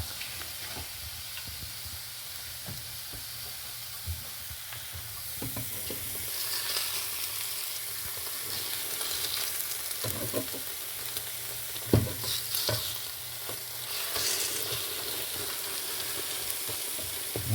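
Scrambled eggs sizzling steadily in a frying pan at breakfast, with a continuous close crackle and hiss broken by occasional utensil scrapes and stirs.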